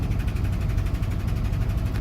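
A 1982 Ford F-150 truck engine idling after warming up, a steady low rumble with even rhythmic pulsing, close and loud throughout with no talking.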